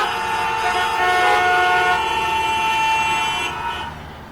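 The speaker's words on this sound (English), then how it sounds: "Here, people honk even when the signal is red." Car horns honking at a red signal in Mumbai city traffic: a loud, sustained blaring horn held for several seconds, with overlapping tones, close by and fading at the end.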